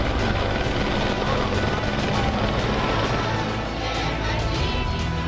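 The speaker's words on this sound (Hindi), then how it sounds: "इस मौके पर आसमान से हेलीकॉप्टर ने पुष्प वर्षा की।" A helicopter showering flowers over Badrinath Dham at its door-opening ceremony drones loudly and continuously overhead, its rotor noise a dense, steady roar that barely changes from start to end.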